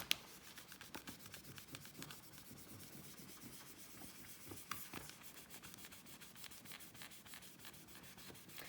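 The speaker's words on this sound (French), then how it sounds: "Et là, hop, on va gommer ici aussi." Pencil marks being erased from paper with an eraser: quiet, rapid back-and-forth rubbing strokes, close and continuous, with no talking.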